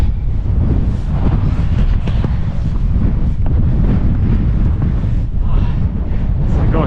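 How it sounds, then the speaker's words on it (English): Strong, steady wind buffeting the microphone on the hilltop of Brent Knoll in the Mendip Hills, with a constant low roar throughout, loud and close, with faint sounds beneath it. "Ooh, yeah, we're getting some wind. It's windy."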